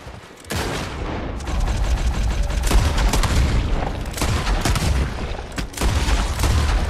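Revolver gunfire in Red Dead Redemption, a dense volley of sharp cracking shots and booming reports, loud and close, coming in a continuous barrage with brief lulls.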